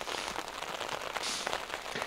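Heavy rain downpour pattering on a hammock in a Dartmoor forest in winter, a dense continuous hiss of drops with sharper taps, fairly faint and steady.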